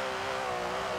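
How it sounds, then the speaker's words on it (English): An Aston Martin V12 engine in Forza Horizon 4 holds a steady, loud, droning rev throughout, a continuous close engine tone with no pauses. "Nice loud V12 here."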